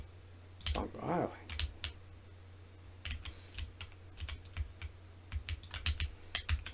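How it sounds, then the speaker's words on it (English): Keys on an ROG Azoth mechanical keyboard are pressed in irregular bursts of sharp, thunking clicks, close and fairly loud while a game runs, with a brief voiced sound near the start. "getting quite a bit of noise from just the thunk of pressing down"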